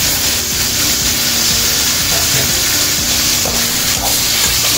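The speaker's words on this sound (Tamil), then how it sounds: "கத்திரிக்காயும் போட்டு நல்லா வதக்கி வச்சுருவோம். இதிலே வந்து இந்த தக்காளியும் சேர்க்குறேன்." Tomatoes are added to brinjal frying in a pan for karamani gravy, giving a loud, continuous sizzling hiss that stays steady and close throughout.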